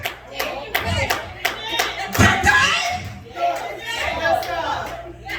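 One person claps in a church congregation during a sermon, sharp rhythmic claps near and fairly loud, mixed with crowd chatter and a preacher's voice.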